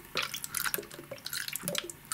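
Hair clog remover liquid is poured down a sink drain, making quick irregular drips and splashes, light and close, with small gurgles between them.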